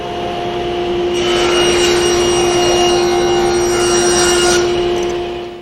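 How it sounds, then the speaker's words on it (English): A table saw cuts a rabbet along a board held against the fence: a steady, loud motor whine with a harsher cutting roar rising in the middle for a few seconds, then easing off, no talking. "Now we'll be passing the board through with the outside edge against the fence and the inside face against the saw table."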